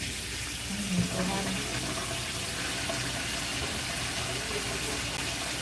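Water runs steadily from a tap in a hair salon as it is warmed up, a constant close, loud rush with a brief voice over it near the start.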